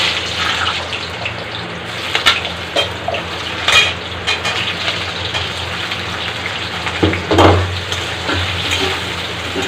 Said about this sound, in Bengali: এই আলু আগে আমি ভেজে নেব